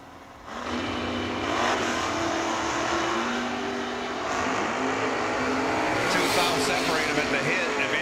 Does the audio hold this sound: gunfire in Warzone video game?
no